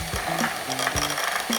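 Hand mixer whizzing cream cheese in a small bowl, a close whirring buzz with rattling, scraping beater knocks against the bowl, brief and with no voices.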